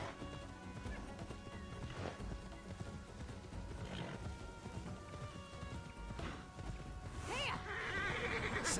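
Rhythmic hoofbeats of a galloping horse clatter continuously, with a brief whinny near the end, over a busy, synthetic-sounding backdrop, in the video game Immortals Fenyx Rising.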